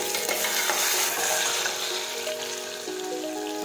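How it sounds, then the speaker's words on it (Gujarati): Green cowpeas and chopped potatoes sautéing in a pan give a steady, close sizzle and frying hiss with light stirring scrapes, heard alone with no talk. "હવે આપણે સાતળી લઈશું"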